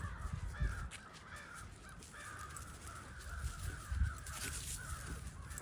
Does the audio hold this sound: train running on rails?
no